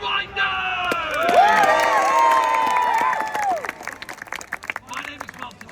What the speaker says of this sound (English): Can I hear the biggest, the loudest cheer for the Trebuchet Winders?